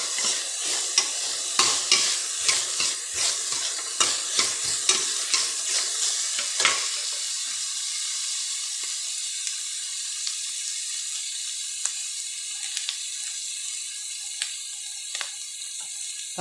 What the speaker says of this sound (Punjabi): ਜੇ ਆਪਣੇ ਪਿਆਜ਼ ਭੱਜ ਗਏ